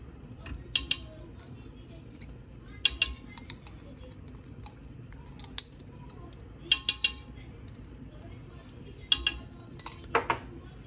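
A spoon stirring tarhana mixed with crushed garlic in a bowl, giving scattered clusters of bright clinks against the bowl over a quiet background.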